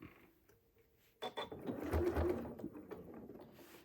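A sewing machine stitches in the ditch on a quilt block, starting after a quiet pause and then running in a quick, steady mechanical whir close by, with no talking.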